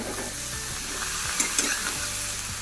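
Ridge gourd tips into a pan of frying potatoes and a steady, close sizzle follows, broken by a few light scraping taps from stirring.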